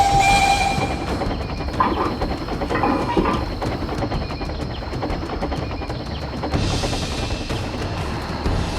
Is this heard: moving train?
yes